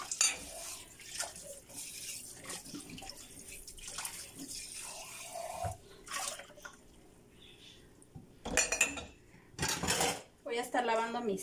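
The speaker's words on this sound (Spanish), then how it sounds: "disculpen por el ruido que hace uno con los trastes" Dishes, pots and cutlery clatter and clink while being hand-washed at a sink with liquid dish soap, in irregular bursts of rattling and knocking, with running or dripping water between them and a few louder clanks toward the end.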